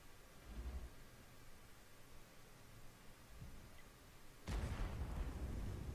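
In World of Tanks, a Borsig fires a single sudden, heavy shot at an IS-3 heavy tank, and the shell bounces off. The blast bursts out of a faint, quiet background hiss, with a low rumble trailing off.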